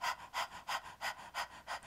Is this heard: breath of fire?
yes